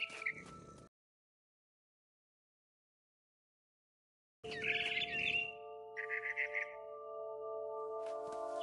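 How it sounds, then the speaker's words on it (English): A barn swallow in What Remains of Edith Finch, chirping in short bright bursts at close range, broken by a long silent gap and followed by a steady tonal hum. "Then I heard chirping outside my window."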